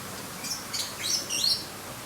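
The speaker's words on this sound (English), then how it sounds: "There's an amazing variety of birds. I don't know what they all are, but different types from around the world." Assorted zoo birds chirp and call in short bright bursts, several overlapping tweets rising over a soft background hum, with no talking.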